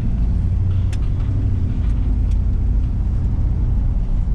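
A 1955 Pontiac Chieftain four-door station wagon in white and yellow two-tone drives along, with a loud, steady low engine rumble and road noise throughout and no talking.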